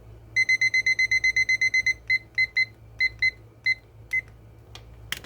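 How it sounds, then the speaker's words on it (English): A kitchen timer goes off with a bright electronic alarm: a fast run of about a dozen loud, even beeps, then a few slower scattered beeps before it stops, close by and with no talking. "So I'm going to set my timer for 20 minutes"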